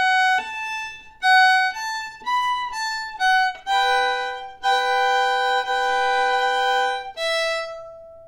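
Fiddle-style melodic phrase from the tune Black-Eyed Susan, played with slurred notes and ringing double stops; a sustained bowed string line of short notes, then longer held chords, clear and close with no talk.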